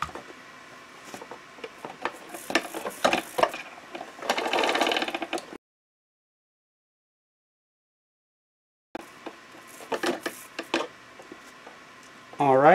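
A bicycle chain clicks and rattles as it is turned through a homemade cleaning tool made from a juice bottle, with toothbrushes and degreaser. Irregular ratcheting and scrubbing noises come close by, then a long silent gap, then more clattering.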